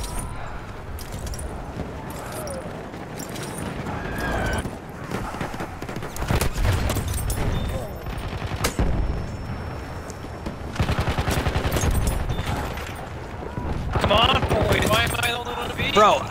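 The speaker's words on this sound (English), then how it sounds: "Explosions." Battlefield combat rages with rapid bursts of gunfire and booming explosions, loud and dense, rising and falling in waves as players talk over the chaos.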